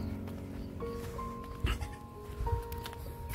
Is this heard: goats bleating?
yes